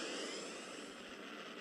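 A spaceship's warp engine powers up in the space game Second Galaxy, a steady broadband jet-like roar and hiss that holds evenly throughout at moderate, faint level with no voices.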